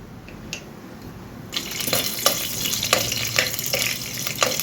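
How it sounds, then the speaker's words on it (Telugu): Tempering spices hit hot oil in a pot and set off a sudden loud sizzle that keeps crackling up close, with a few sharp clinks from the stirring, and no voice. "ఆయిల్ వేడైంది ఇందులో పోపులు వేసుకుందాము"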